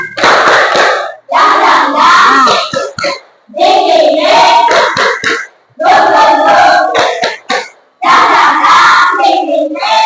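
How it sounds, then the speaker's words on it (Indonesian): Classroom of students doing a rhythmic spirit clap, loud close bursts of group clapping mixed with shouted chanting in repeated phrases separated by short pauses. "Ayo, kita tepuk semangat dulu ya. Tepuk semangat."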